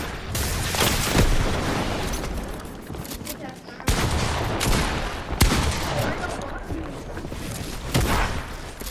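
Game gunfire roars almost continuously in a dense, loud barrage, with a couple of sharp cracks standing out as a sniper rifle lands a headshot in a video game.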